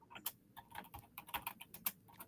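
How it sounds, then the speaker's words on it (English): Rapid typing on a computer keyboard, an irregular patter of crisp key clicks in quick bursts, fairly close but quiet, with no voices. "typing furiously"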